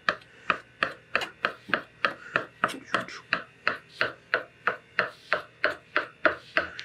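A knife cuts through croissant dough on a board in a bakery, giving a steady series of about fifteen crisp, evenly timed chops, close and clear with no talk.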